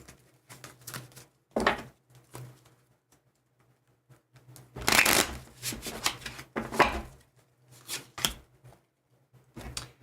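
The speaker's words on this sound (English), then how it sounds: "Let's do one more shuffle here." Tarot cards being shuffled by hand, bursts of crisp riffling and flicking in short irregular clusters with quiet gaps between, close and fairly soft, no talking over them.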